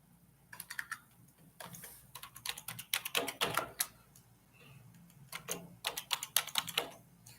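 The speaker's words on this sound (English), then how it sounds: "I'm typing right this second." Rapid keystrokes on a computer keyboard come in quick bursts and short pauses, close and fairly quiet, with no voices over them.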